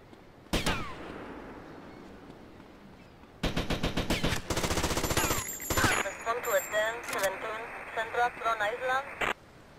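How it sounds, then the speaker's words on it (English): Gunfire in GTA Vice City: an early single shot, then long rapid bursts of automatic fire, close and loud, with sirens and game sounds mixed in and someone talking over it. "Who's shooting me right now?"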